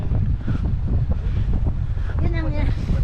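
Cold wind gusting at sea on a sunny day near a crab-trap spot, a steady loud roar of wind buffeting the microphone throughout, with faint voices and a brief tonal squeak near the end.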